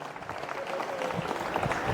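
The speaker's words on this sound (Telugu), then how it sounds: "ఒకసారి గట్టిగా చప్పట్లు కొట్టి అందరికీ అభినందనలు తెలియజేయాలని నేను కోరుతున్నాను" Applause from an audience at a heart-stroke awareness rally, honouring hospital doctors and management, a soft crowd of clapping that builds and holds steady, fairly distant.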